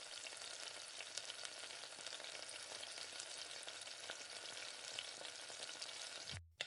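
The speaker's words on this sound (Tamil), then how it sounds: "இந்த மாதிரி லைட்டாக வறுத்துட்டு பாத்திரத்தில் சேர்த்துக்கோங்க." Whole spices dry roasted lightly in a pan for homemade masala powder, a steady soft crackling sizzle with faint scraping stirring, continuous and close, ending abruptly.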